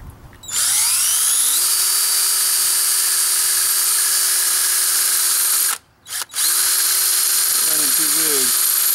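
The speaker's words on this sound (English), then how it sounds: "drill it just one little size bigger" A handheld power drill bores a hole one size bigger in metal, whining loud and steady as it spins up, briefly stopping and restarting, then running on with faint voices near the end.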